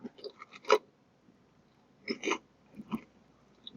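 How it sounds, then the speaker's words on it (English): Someone eating Cheetos makes short, close, dry crunching bursts in a few scattered clusters, separated by quiet pauses. "If you hear some crunching, it's because I'm eating Cheetos."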